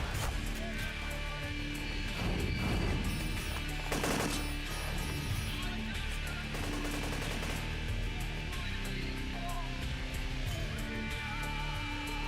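Gunfire in the game Gunz The Duel: dense, rapid bursts of shots and clattering impacts fill the whole stretch, loud and continuous, with overlapping volleys and no pauses.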